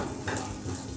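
Food stirred in oil in a pot makes a brief, dense sizzle with soft scraping of the spoon close by.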